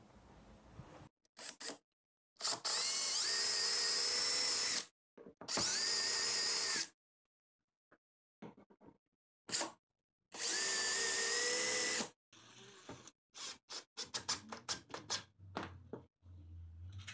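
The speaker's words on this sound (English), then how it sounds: "to fasten the head to the adapter plate, I'll just use some screws right through the top" Power drill driving screws through the top of a shop vac head into an adapter plate for a small cyclone dust collector, in three long whining bursts with pauses between, followed by scattered clicks and handling clatter.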